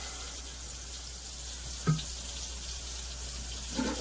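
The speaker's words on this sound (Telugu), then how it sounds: "నీళ్ళు వేసేద్దాం." A glass of water goes into a pan of raw mango curry, giving a splash and a hiss over a low, steady background hum, with another small splash near the end.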